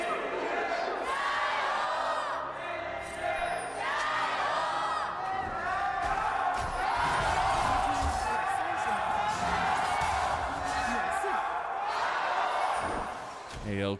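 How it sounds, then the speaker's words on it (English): Crowd at a League of Legends LPL esports arena during an upper bracket final, a dense, sustained roar of cheering and shouting filling the space while commentators talk over it. "See how loud the crowd is getting into Game 4."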